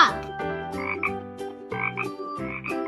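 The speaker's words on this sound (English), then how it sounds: "Frog." A frog croaks in a rhythmic series of throaty, resonant calls, close and fairly loud, with short gaps between bursts and no voices.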